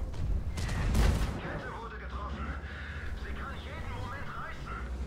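A heavy E 50 M tank cannon fires in a video game, one booming blast early on that fades into a rumbling tail, with a voice talking throughout.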